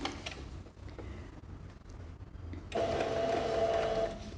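A sewing machine stitches a seam on a small fabric organizer bag, a faint mechanical whir with fine ticking that starts quietly and becomes a steadier, louder run in the final second and a half.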